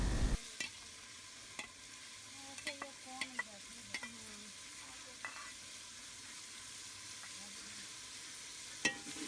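Spice paste of ground red chilies, garlic, ginger and dried coriander frying in a pan, giving a quiet steady sizzle broken by light scraping and clinks of stirring, nearby and without speech.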